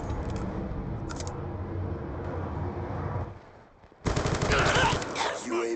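Rapid automatic gunfire from the video game Black Ops II rattles in loud, dense bursts, drops briefly to near silence, then returns even harder and brighter, with no voices over it.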